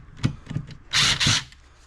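A power drill backs screws out of a Hilti TKT2000 during disassembly, giving two loud, close whirring bursts of about a quarter second each, with light clicks and handling knocks before them.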